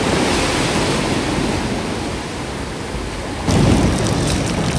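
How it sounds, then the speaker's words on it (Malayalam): Ocean waves break continuously on the shore of Lembongan island in Bali, a dense, loud roar of surf mixed with wind buffeting the microphone, with a heavier crash near the end. "ഏത് സമയവും പെട്ടെന്ന് വലിയ തിരമാലകൾ വന്നിട്ട് നമ്മളെ കടലിലേക്ക് എടുത്തുകൊണ്ട് പോകും"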